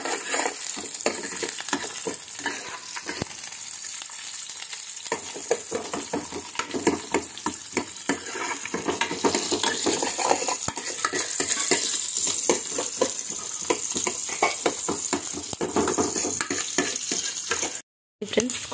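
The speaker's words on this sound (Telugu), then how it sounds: "కొంచెం వేగాలి." Cumin, mustard seeds and onions fry in hot oil with a steady, loud, close sizzle and crackle, broken by stirring scrapes and one brief silent gap near the end.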